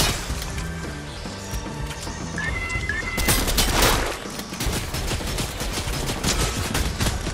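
Rapid video-game gunfire rattles in bursts as a player shoots at a turret, with dense repeated shots, a sharp crash-like impact in the middle, and a busy game soundtrack underneath.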